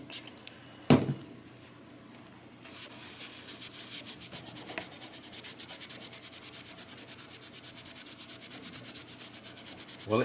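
A guitar fretboard on a Monoprice Indio Telecaster-style guitar is rubbed clean with quick, even back-and-forth strokes, a soft scratchy rhythm close up after one sharper knock near the start.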